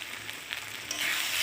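Ginger-garlic paste with red chilli powder frying in hot oil, a steady close sizzle with crackling bursts and a light stirring scrape, no voices.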